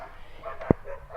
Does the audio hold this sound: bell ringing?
no